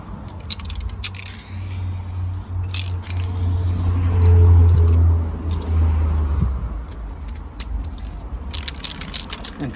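A coat of spray paint goes onto the boot of a Mercedes SLK R170 during rust repair outdoors on a breezy day, a steady hiss with low wind rumble that swells in the middle and then eases.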